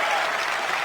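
A stream's applause sound effect, triggered by viewers spamming it, gives a dense, steady burst of crowd clapping at even loudness, brief and uninterrupted.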